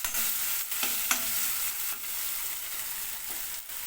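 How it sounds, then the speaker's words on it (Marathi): Tomato masala for a Katla fish curry sizzles in a pan while a spoon scrapes and stirs it in repeated strokes, a loud, close, hissing fry with no voices. "आता थोडा वेळ हे भाजू द्या,"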